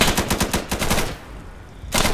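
Rapid bursts of automatic gunfire in the video game Insurgency: Sandstorm, a rattling volley that stops, a short lull follows, then loud shots resume near the end.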